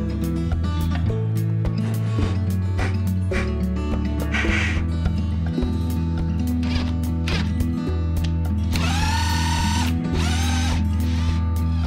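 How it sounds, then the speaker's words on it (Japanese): An electric drill bores a roughly three-centimetre hole for a screw in a wooden post during a DIY job, its motor whining steadily in bursts close by, with changes in pitch as the bit bites. "ここに3センチぐらいの穴を開けていきます"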